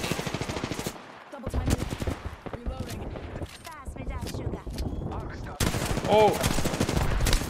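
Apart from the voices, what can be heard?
gunfire from Peacekeeper and Mastiff guns in a video game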